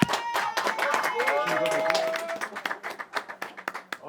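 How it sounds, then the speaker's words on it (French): Audience clapping at a fashion judging show, scattered and uneven, mixed with excited voices and shouting from a lively crowd, with claps growing sparser and more distinct toward the end. "on peut encore applaudir pour de vrai"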